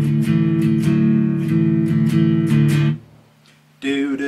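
An electric guitar plays a riff, a loud, repeating rhythmic pattern with bright attacks that stops briefly near the end before another chord rings out.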